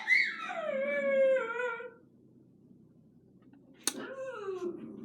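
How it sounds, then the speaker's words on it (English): A dog whines and whimpers in long, falling, howl-like cries, stops for a quiet pause, then gives another yelping whine. The sound is moderately distant and rises over a low background hum. "when somebody walks by with their dog, don't know if you can hear that"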